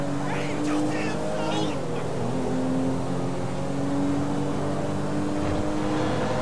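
A motorboat engine in Grand Theft Auto V drones steadily and loudly, rising slightly in pitch, with voices talking over it.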